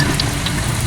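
Food frying in hot oil gives a close, steady sizzle and crackle with small pops throughout the short moment.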